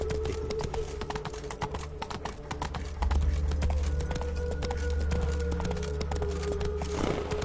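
Hooves of the horse Roach clip-clop steadily at a trot in a video game, a continuous rhythmic clatter over a low droning backdrop, with a brief louder swell near the end.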